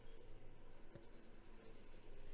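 A watercolour coloured pencil, shade 745, is scribbled roughly over paper to shade a stone effect, making a faint, close, continuous scratchy rustle of quick back-and-forth strokes.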